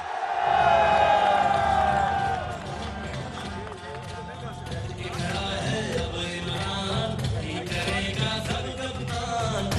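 Large outdoor crowd at a PTI political rally (jalsa) in Timergara, Lower Dir, applauding and cheering loudly, with a dense, sustained roar of clapping and voices that swells at the start, dips slightly, then holds steady throughout.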